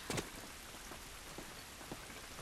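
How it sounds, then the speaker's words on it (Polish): Rain falls steadily in The Last of Us video game, a dense, even hiss of rainfall with a few faint drips and taps standing out, no voices. "Ten deszcz nam nie pomaga."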